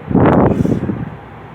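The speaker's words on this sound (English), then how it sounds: "there's that AC blowing" Air conditioning in a 2007 Pontiac Grand Prix blows a short, loud rush of air right at the listener, then fades to a steadier hiss.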